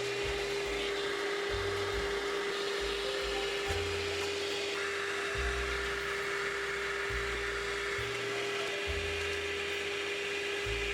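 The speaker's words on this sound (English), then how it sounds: "The dust was then removed with a stiff brush and vacuum." Vacuum cleaner removing dust from Xbox 360 plastic parts, a steady loud whirring drone with a constant tonal whine and shifting low rumble, running throughout without talk.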